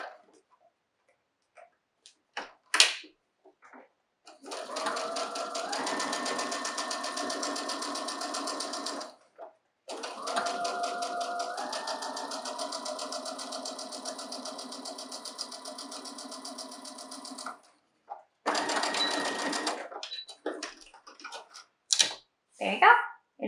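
A sewing machine back-tacks and stitches a folded edge on a fabric face mask, humming in three long runs with a steady ticking needle beat, separated by pauses filled with small handling clicks and brief talk.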